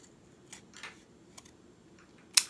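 Paper being cut with scissors while making a small square for a perfume bottle embellishment: a few soft, scattered snips, then one sharp, close, louder snip near the end.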